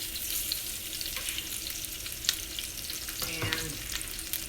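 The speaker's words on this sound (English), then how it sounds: "I'm flavoring the oil. with the garlic." Garlic sizzling in hot oil in a pan for steak pizzaiola, a steady crackling fry with occasional stirring clicks and scrapes, moderately loud and close.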